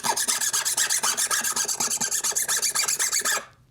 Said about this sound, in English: I've got a file here to grind it off with.